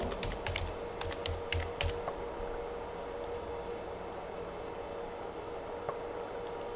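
Quick bursts of keystrokes on a computer keyboard as a search term is typed in, clustered clicks in the first two seconds and then sparse taps over a low steady hiss, no talking.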